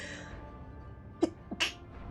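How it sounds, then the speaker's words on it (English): A single quick sneeze, preceded by a short sharp intake of breath, with a faint hum in the background and no talking. "I need to sneeze."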